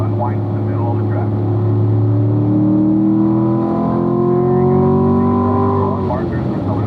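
Race car engine pulling hard on a circuit at a racing school, a loud steady drone with rising pitch as it accelerates, while an instructor talks over it.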